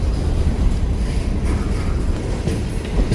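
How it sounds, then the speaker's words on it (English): A lone Burlington Northern green coal hopper car rolls past at a railroad line near Galesburg or Fort Madison, a steady, loud, close rumble of wheels on rail filling the whole stretch without pause. "Here comes that solo BN green hopper again."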